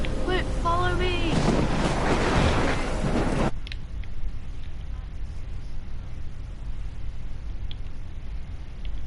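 A heavy rainstorm roars with broad, steady noise in Life is Strange, with a voice speaking over it at first before the din drops to a softer, continuous rain wash.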